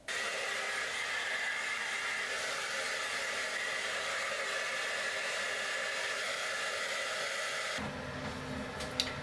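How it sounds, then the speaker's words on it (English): Hair dryer blowing steadily while hair is dried, a constant loud whooshing hum that cuts off near the end, leaving a quieter room with a small knock. "I'm mainly just drying my hair"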